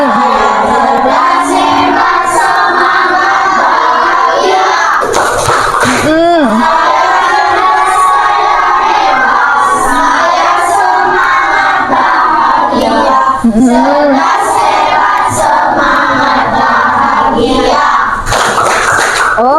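A school class performs a positive-affirmation clapping chant to a familiar children's tune, voices singing together loudly with rhythmic hand claps throughout.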